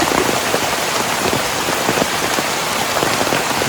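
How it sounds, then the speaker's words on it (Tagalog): Steady rain pours down on a farm pond, a dense hiss of drops pattering on a surface, constant and fairly loud, with no voices. "Inabot na kami ng ulan."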